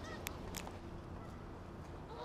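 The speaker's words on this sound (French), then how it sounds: "Regardez les oies." A few geese give short honks in a Toronto park, two or three faint distant calls over a steady low background hum, no talk.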